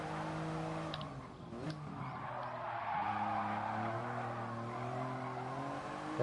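Car tires skid and squeal in the Gran Turismo Sport racing game over a droning, shifting engine note, the squeal sustained through most of the stretch at moderate loudness.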